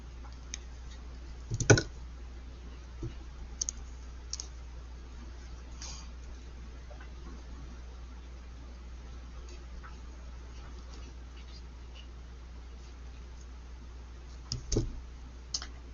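Small snipping clicks as the thin tail of a connector is cut, a sharp click near the start and another pair near the end, fairly faint and isolated over a quiet steady background hum.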